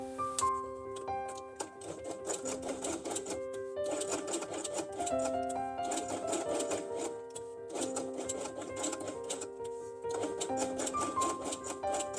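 A sewing machine runs in bursts as it stitches along the edge of fabric pieces for a dinosaur quiet book. Its steady mechanical whir carries over soft background music, with brief pauses between runs.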